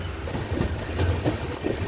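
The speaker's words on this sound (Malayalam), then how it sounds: "പരവൂർ സ്റ്റേഷനിൽ നിന്ന് വണ്ടി എടുത്തു." Island Express train pulling out of Paravur station in Kerala, a close continuous rumble of rolling coaches with soft rhythmic clickety-clack and faint wheel squeal, no voices.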